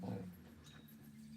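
A dog whimpers softly in a short, quiet burst at the start, followed by a faint steady hum with no talking.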